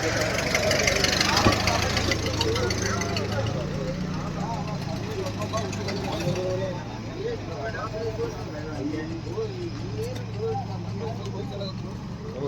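A tractor engine idles with a low, steady rumble throughout at a village tractor event in north Karnataka, while people talk over it.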